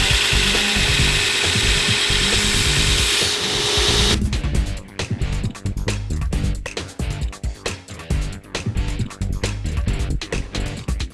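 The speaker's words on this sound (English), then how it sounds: "Ready to grind the other bevel?" Grinding the bevel of a handmade knife on a sander gives a loud, steady mechanical whir, then turns into choppy, uneven abrasive grinding as the blade is worked against the belt.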